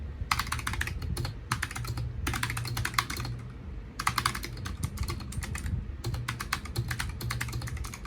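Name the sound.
computer keyboard typing sound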